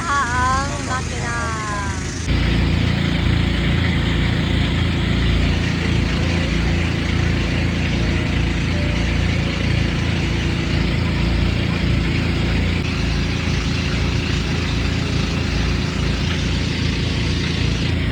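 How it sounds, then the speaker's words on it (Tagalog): A pump boat's engine roars close and steady under way, a dense low droning rumble that fills the whole stretch after a short quieter lead-in with a faint chirping voice. "walay madungog kay banha ang makina."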